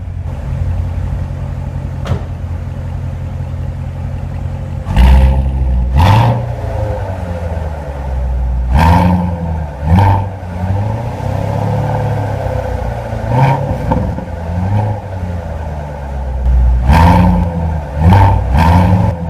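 A 6.2-liter direct-injection V8 in a modern American muscle car, rear-wheel drive, firing up by push button then idling with a deep rumble broken by several loud, sharp revs that swell and drop back, close and alone.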